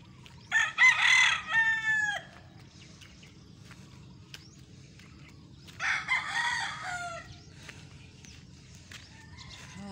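Roosters perched high in a tree crow twice with a long pause between, clear and fairly close, over a faint steady hum of insects.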